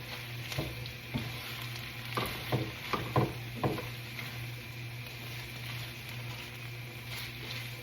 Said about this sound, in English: 3 cloves of garlic. I'm just gonna stir it around.